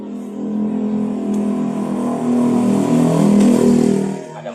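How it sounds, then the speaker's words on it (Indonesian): A motorcycle passes by on a nearby road, its engine droning loudly as it swells to a peak and then fades away. "Motor lewat, ntar dulu,"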